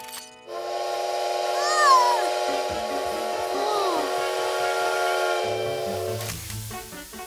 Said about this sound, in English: A train!